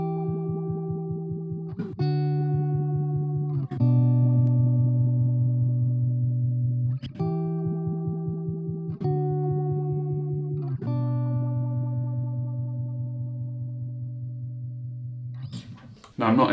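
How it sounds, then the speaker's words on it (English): A Line 6 Spider 15 Classic guitar amp plays through its sweep/echo effect, sustained distorted guitar chords struck about every two seconds, each ringing with a wavering, processed tone before a brief noisy burst at the end. "The last thing we have is the sweep/echo, and that sounds something like this."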